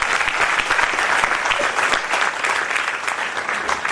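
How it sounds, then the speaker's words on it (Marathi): A seated audience at a talk about Chhatrapati Shivaji Maharaj bursts into dense, steady applause, loud and continuous throughout with no talking. "जोरात टाळ्या वाजवा"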